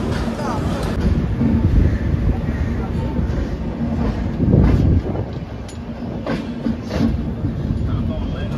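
The Gitanjali Express, in an AC 3-tier coach, rumbles and rattles steadily with wind noise just after leaving Kharagpur, with rhythmic swells of clatter and a person talking faintly over it.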